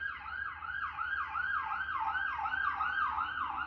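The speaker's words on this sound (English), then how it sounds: "the fact that I keep getting interrupted by sirens" A wailing emergency siren sweeps up and down in quick repeated cycles, faint and distant, heard from indoors through a window with traffic rumble beneath, passing outside.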